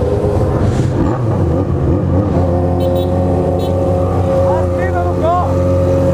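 A motorcycle engine revs loudly and steadily near a nightclub door at night, with a sustained throaty drone and rising pitch sweeps near the end, while voices talk over it.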